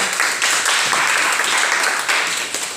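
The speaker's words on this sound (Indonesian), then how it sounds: "Berikan tepuk tangan dulu." Classroom applause for the first student group after its presentation, a dense patter of hand claps from a room of students that runs steadily at moderate loudness for a few seconds.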